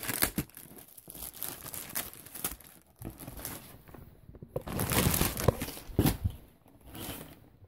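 Tape is handled on a 13-inch Amazon Basics laptop sleeve with back pockets, producing close, irregular crinkling and tearing sounds, scattered taps, and a louder ripping stretch midway.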